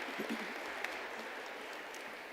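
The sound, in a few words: audience applause for a panel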